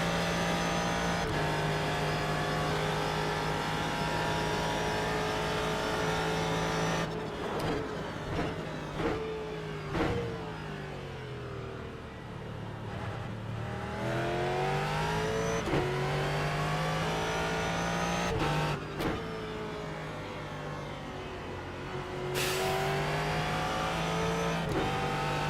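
A Ford GT3 race car in iRacing climbs over a hill at Virginia International Raceway, its engine revving steadily and rising through gear changes with brief lifts and shifts, loud and continuous with no voices.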